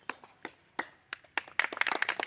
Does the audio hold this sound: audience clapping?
yes